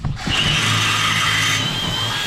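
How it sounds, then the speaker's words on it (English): A power drill fitted with a super long drill bit runs in one steady, close whir that holds for about two seconds without stopping. "probably ought to just take this super long drill bit, run it through there about 8 or 10 times."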